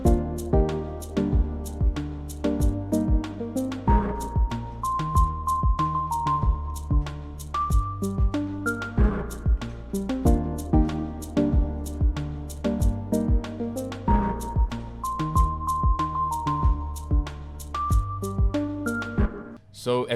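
Recreated groove, with crisp rhythmic percussive hits under synth bass, chords and a repeating melodic line, looping steadily through the four-bar pattern with no one talking.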